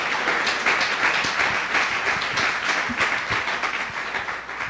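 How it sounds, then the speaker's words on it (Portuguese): Church congregation at a Nova Vida service clapping in praise, a dense, steady wash of applause filling the room for several seconds without pause, fairly loud and close. "Dê uma salva de palmas ao Senhor"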